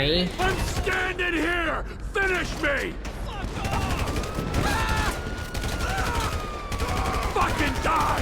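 Gunfire during a bank robbery shootout in Grand Theft Auto V, with dense bursts of shots and mechanical clatter running throughout, layered with music and game effects at a loud, steady level.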